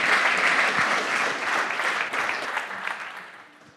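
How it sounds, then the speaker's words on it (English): An audience at a conference gives a round of applause, a full, even burst of many hands clapping that holds steady and then tapers off in the final moments. "So we give Barbara a round of applause."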